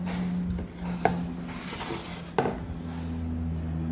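Dried raw mango papad is cut by hand in two separate strokes, each a brief crisp snap or knock over a faint, steady background hum.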